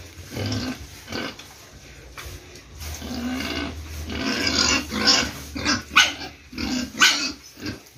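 Pigs on a farm grunt and snort steadily while feeding on pig feed, with repeated close rough grunts and snuffles rising in bursts toward the end.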